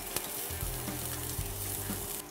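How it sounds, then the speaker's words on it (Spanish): Two cloves of finely minced garlic sauté in two tablespoons of neutral oil in a saucepan, giving a close, steady crackling sizzle with a low bubbling undertone throughout. "vamos a comenzar sofriendo 2 dientes de ajo finamente picados"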